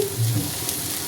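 Spices such as turmeric and salt stirred in a hot frying pan, a soft steady sizzle with a few low scraping strokes near the start, close and alone.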